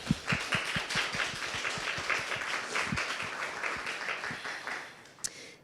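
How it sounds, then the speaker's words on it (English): An audience at an accelerator program's final presentations claps steadily for the business-owner cohort, a sustained round of applause with sharp individual claps standing out, tapering slightly at the end. "a huge round of applause for my cohort"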